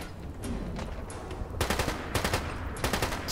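Bursts of rapid gunfire in the Fallout 4 video game, sharp repeated cracks in quick automatic runs, loud and close, with several clusters of shots back to back.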